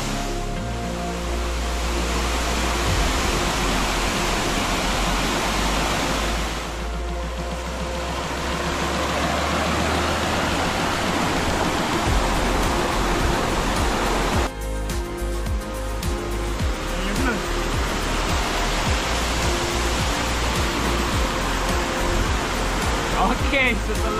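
Durian Perangin waterfall in Langkawi roars as a continuous, dense rush of falling water, loud and steady throughout, with the texture shifting slightly a couple of times.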